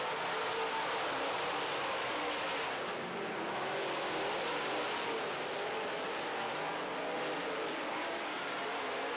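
Late model stock cars racing on an oval track near the finish of a feature event, a loud continuous roar of engines and passing cars that fills the whole stretch, with no voices heard.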